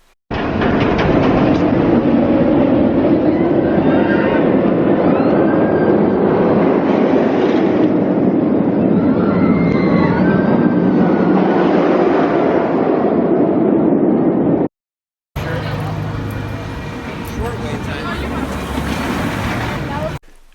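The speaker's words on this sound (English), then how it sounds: "It sounds just like a regular roller coaster." A roller coaster rumbles and clatters along its track for a long stretch, with faint distant screams, then cuts to a louder, rougher roaring passage.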